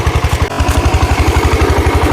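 A tractor engine driven by a father chugs in a fast, even rhythm of heavy low pulses, close and loud, running continuously.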